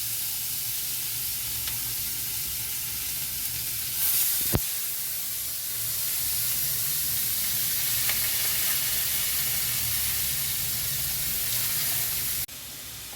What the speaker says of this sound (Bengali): এবার ফোড়নটাকে একটু তেলের মধ্যে নাড়িয়ে পেঁয়াজগুলো দিলাম।